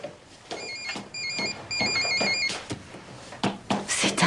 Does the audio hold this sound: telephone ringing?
yes